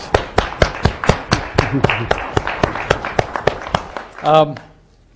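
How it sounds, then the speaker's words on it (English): Students in an MIT architecture studio class applaud their reviewers, sharp, evenly spaced claps ringing close and loud in a steady rhythm, with a brief voice speaking just before they fade out. "So would the students join me in applauding the reviewers?"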